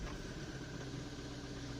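A 2007 Jaguar X-Type diesel engine idles steadily with a low, even rumble and faint mechanical clatter, heard up close and alone, no talking.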